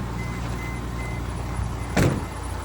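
A Mercedes Sprinter 2500 with the 3.0L engine turns over in one short, loud burst about two seconds in, over a steady low idle-like hum; any belt squeal is not clearly distinct.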